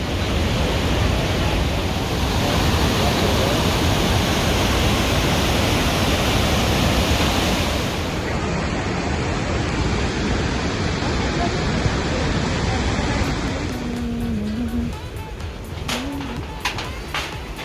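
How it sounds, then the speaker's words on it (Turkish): Roar of the Devil's Throat at Iguazu Falls, a steady, loud broadband rush of falling water that fills the whole clip without pause, with a brief faint tone near the end. "dünyanın en büyük şelale kompleksi"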